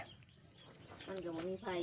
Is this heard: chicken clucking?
yes